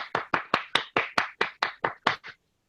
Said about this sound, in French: On applaudit Toastmaster Moïse.